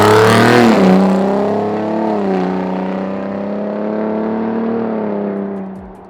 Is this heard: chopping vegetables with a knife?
no